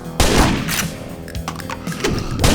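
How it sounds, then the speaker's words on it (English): Shotgun blasts in Ashes: Dead Man Walking, loud booming shots with heavy low-end, the first near the start and more following over about two and a half seconds, with no talking. "let's try the shotgun"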